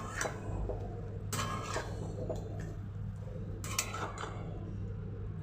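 Chicken kosha being stirred with spices in a pan, with a few sharp scraping clinks of a utensil against the pan over a low steady kitchen hum.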